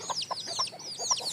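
Deshi chickens on a small Bangladeshi home farm cluck rapidly, a close cluster of short, rhythmic calls over a quiet background.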